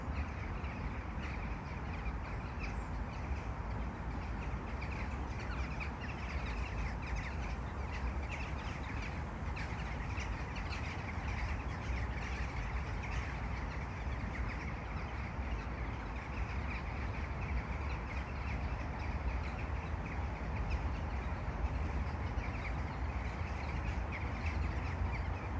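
A large flock of crows caws at dusk, a dense, continuous wash of overlapping calls at a steady distance with no speech.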